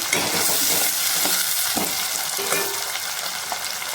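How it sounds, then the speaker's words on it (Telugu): Green chilies and curry leaves frying in hot oil while being stirred, a steady broadband sizzle with scattered scraping stir strokes throughout, close and fairly loud with no voices. "పచ్చిమిర్చి వేసుకుందామండి. కరివేపాకు తిప్పుకుందామండి."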